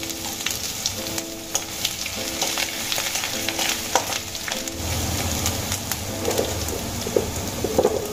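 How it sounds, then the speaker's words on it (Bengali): Grated ginger frying in a spice tempering for an ilish fish head and Malabar spinach chorchori, a steady close sizzle broken by repeated clicks and scrapes of a spatula stirring in the pan. "আদা আমি হালকা করে ভেজে নিয়েছি"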